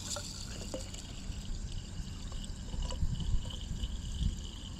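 Water running gently from a tap to rinse out a boiler condensate trap during a Burnham Alpine boiler teardown, a steady close trickle and pour with faint clinks throughout.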